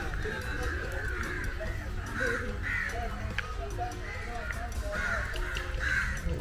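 Crows cawing repeatedly along the seafront at Marine Drive in Kochi, several harsh calls spread through the clip over steady low waterfront rumble and background noise.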